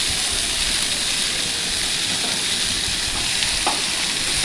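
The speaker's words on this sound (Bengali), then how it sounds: "চাল কুমড়োটা দিয়ে ভালো করে নেড়ে চেড়ে নিয়ে" Thinly shredded ash gourd (chal kumro) fries in hot oil in a pan, giving a dense, steady sizzle with faint scrapes of stirring.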